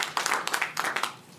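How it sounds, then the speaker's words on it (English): Brief, scattered clapping from an audience at a federal government announcement on housing funding for asylum seekers in Toronto, a handful of quick claps in a short burst that fades out. "We need a round of applause"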